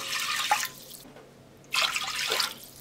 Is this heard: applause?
no